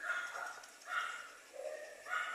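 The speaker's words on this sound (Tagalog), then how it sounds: "Napakaganda Pomeranian." Pomeranian dog barking in three clear bursts, each a short run of yapping barks with brief pauses between them, moderately close and fairly quiet, with no talking.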